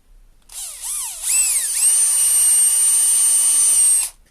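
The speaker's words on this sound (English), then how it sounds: "Try not to drill so far this time." A power drill whirs up in two short bursts, then runs steadily at high speed for a few seconds drilling wood for a birdhouse before cutting off; loud and close.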